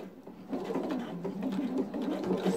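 A sewing machine stitches straight through all the layers of a patchwork e-reader case, running as a steady, fairly quiet mechanical whir for the whole stretch with no speech over it.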